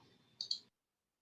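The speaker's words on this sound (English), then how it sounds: "So I click apply, click OK, close." Two quick computer mouse clicks close together, crisp and near, after a brief stretch of low room noise, then silence.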